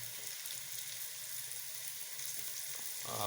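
Onions fry in a pan for a pasta dish, giving a faint, even hiss with soft popping throughout and a slight rise at the very end.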